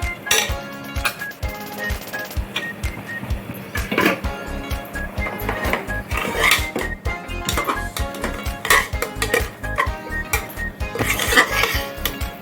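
A spoon clanks and scrapes rhythmically against a metal cooking pot as ground spice paste is sautéed, with repeated sharp metallic knocks and clinks and no talking.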